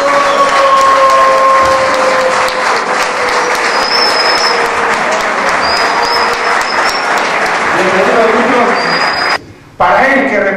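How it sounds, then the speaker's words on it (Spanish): An audience applauds Peruvian Dakar 2012 rally driver Fernando Ferrán at an awards recognition, steady loud clapping under a voice speaking over a public address system. "el aplauso de ustedes que son una parte es el aplauso del Perú para él y para todos los participantes en esta competencia"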